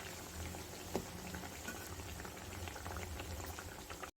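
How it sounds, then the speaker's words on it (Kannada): Wheat flour biscuits deep-frying in hot oil on a medium flame, a steady dense bubbling and crackling that holds evenly throughout before cutting out at the very end. "ಇದನ್ನು ಎರಡು ಕಡೆ ಚೆನ್ನಾಗಿ ಗೋಲ್ಡನ್ ಬ್ರೌನ್ ಬರೋವರೆಗೂ ಫ್ರೈ ಮಾಡಿ ತಗೋಬೇಕಾಗತ್ತೆ."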